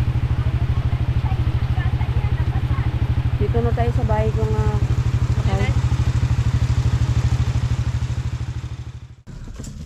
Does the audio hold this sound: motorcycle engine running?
yes